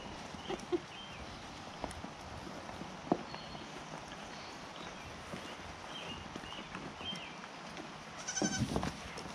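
Goats, including kids, shuffle and move about in an outdoor pen with soft rustling and a few faint bleats, growing busier near the end.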